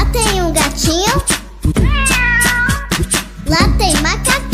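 Sung cat meows in a Brazilian children's song about backyard animals, a voice imitating the cat with several drawn-out, sliding meows over a loud, steady musical backing.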